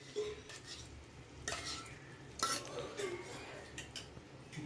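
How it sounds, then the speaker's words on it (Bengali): Curd stirred in a hot brass wok, scraping and clinking of a spoon against metal in irregular strokes with a faint sizzle underneath, close and moderately loud. "আগে নাড়িয়ে চাড়িয়ে নেবো।"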